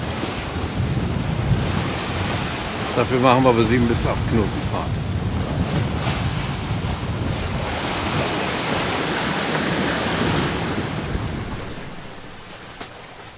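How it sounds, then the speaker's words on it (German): Confused sea waves wash and slosh around a sailing boat under way at seven to eight knots off Portugal, with wind buffeting the microphone throughout, and someone speaks briefly over the rushing water. "die Wellen sind ziemlich konfus und schütteln einen richtig durcheinander her."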